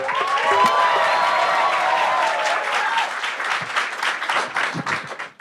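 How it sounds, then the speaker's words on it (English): A comedy club crowd applauding and cheering as a stand-up comedian walks on stage, loud sustained clapping with whoops that gradually thins toward the end. "with a huge round of applause, please welcome on stage your only act for the evening"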